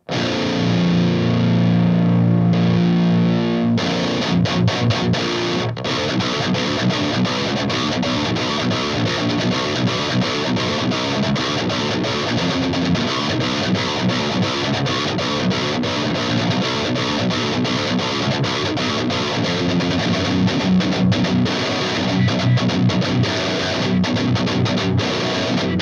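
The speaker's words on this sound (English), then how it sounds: "I like to add an overdrive to that to still kind of saturate it out" Heavy metal electric guitar through an overdrive pedal for extra saturation plays dense, loud, distorted riffing throughout, with constant chugging palm-muted rhythms and a thick sustained tone, no talking over it.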